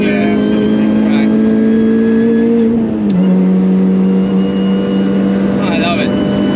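A supercharged Mini Cooper S R53 on the Nürburgring track gives a loud, continuous high supercharger whine over a droning engine that dips briefly in pitch midway, heard close from inside the car.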